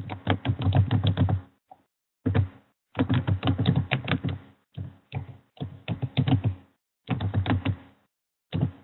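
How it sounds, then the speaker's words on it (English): Typing on a computer keyboard comes in quick clattering bursts of keystrokes separated by short pauses, crisp and close, with no one talking. "I'm going to type it here"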